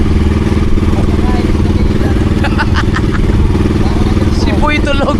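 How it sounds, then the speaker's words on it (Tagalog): A motorcycle engine running steadily after a carburetor repair, a continuous close mechanical drone throughout, with people talking over it. "Ang ganda na ng tunog na pinagpala. Ang ganda na ng kanyang makina."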